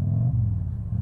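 Chopper motorcycle engine rumbling in traffic while the rider hunts for neutral, a brief, loud, low rumble that dips slightly midway.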